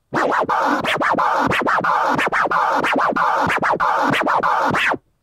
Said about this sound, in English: So first, the backward tear, which is like this.